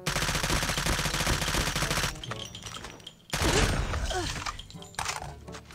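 Type 25 rifle gunfire in a mobile shooter match, dense rapid automatic bursts in long continuous volleys, a brief pause, then more sustained firing with cracks and impacts, loud and close.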